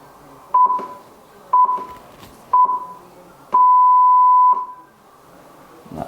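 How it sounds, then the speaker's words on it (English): Three short electronic calibration beeps from a golf putting launch monitor spaced about a second apart, followed by one longer sustained beep, loud and close in a quiet room. "It'll beep after 5."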